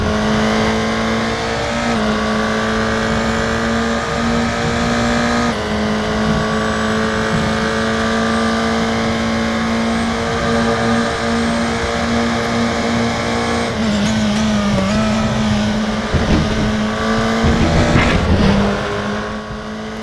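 A race car engine in the Raceroom racing video game drones loud and steady, its pitch holding and shifting as the car is driven. Short bursts and squeals break in near the end, with no talking.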